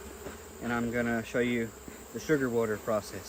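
Agitated honeybees buzz around an open hive during an inspection, a steady insect drone sitting beneath a man's close, continuous talking.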